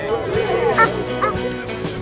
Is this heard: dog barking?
yes